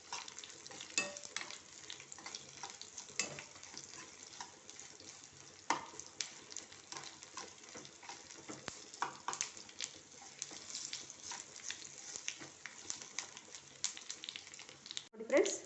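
Garlic frying in oil for a sambar tempering in a home kitchen, a steady broadband sizzle with crackles and occasional stirring clatter, continuous at moderate level with a louder burst near the end.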